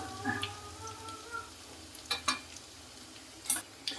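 Garlic frying in a pan for mutton curry gives a soft sizzle, broken by a few scraping stirs and light taps close by.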